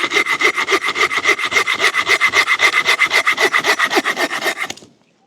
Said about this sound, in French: Scie pliante.